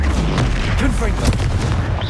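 Fire-blast spell from Confringo in Hogwarts Legacy, a loud booming burst with sharp cracks amid dense, continuous combat noise.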